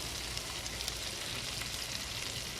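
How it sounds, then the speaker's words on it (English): Fresh lobsters, pre-salted and peppered, frying in butter in a pan give a steady, even sizzle that runs unbroken throughout with no talking. "And let them cook in that butter for a little while."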